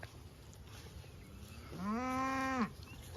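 A cow on a farm gives a single drawn-out moo, loud and close, rising then cutting off after about a second against steady outdoor background noise.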